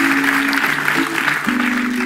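A studio audience applauds for 1. FC Magdeburg during the DFB-Pokal first-round draw, a short burst of clapping carried over a host's speaking voice.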